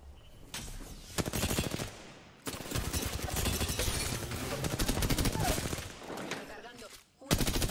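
Rapid automatic gunfire in the Apex Legends battle royale game, loud and dense in sustained bursts with short gaps, accompanied by game effects and Spanish-speaking player chatter.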